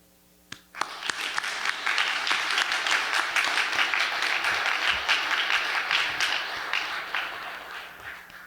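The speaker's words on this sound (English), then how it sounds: "all the other people here standing up and applauding for your courage to stand up as you did" An audience applauds at a ribbon cutting ceremony on an outdoor plaza, the clapping breaking out sharply and then holding steady and full for several seconds before easing slightly near the end.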